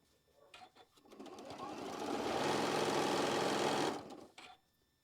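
A sewing machine stitches into a quilt block seam, a fast, even mechanical whir that builds from a few short bursts to a sustained run of about two seconds, then stops with a couple of brief taps.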